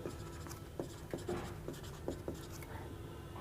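A pen scratches and taps on paper while a molecular structure diagram is drawn, short quick strokes in an uneven rhythm, close and fairly quiet with no talking.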